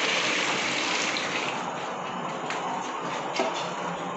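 Water poured onto a burning waterproof stove, a steady rushing gush with a hiss that eases slightly partway through, close and continuous with a few small knocks.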